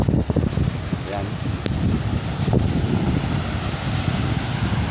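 Rough, whitecapped sea waves wash against a shore on a rainy day, steady broadband surf mixed with gusting wind noise across the microphone, continuous and close, with someone speaking over it.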